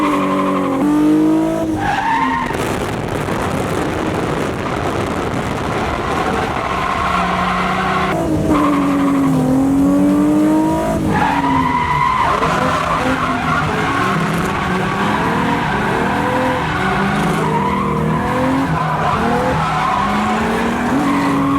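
Cars drifting at a drift event, including a 350Z and a V8 240SX running tandem, with long wavering tire squeals and engine roar rising and falling continuously, loud and close.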